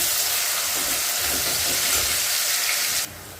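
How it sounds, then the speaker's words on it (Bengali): Two thinly sliced onions with a little salt fry in oil, a loud, even, close hiss that holds steady and then drops abruptly near the end. "পেঁয়াজটা একটু নরম করে ভেজে নেব"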